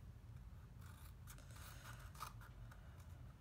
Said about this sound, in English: we can just snip that off with our scissors